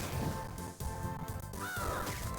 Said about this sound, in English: Dang it, I hate birds. Well, video game birds anyway.